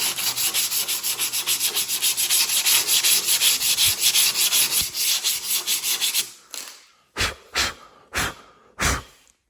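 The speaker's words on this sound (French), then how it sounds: "on prend une petite cale, on prend une toile émerie, la toile émerie" Emery cloth wrapped on a small block rubbed by hand along the edge of a door, a fast steady scraping for several seconds, then a few separate slower strokes with pauses between them.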